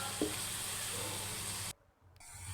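Cumin, tomatoes and chilies fry in a pan for a cabbage gravy, giving a steady close sizzle that cuts off abruptly near the end before a fainter hiss resumes.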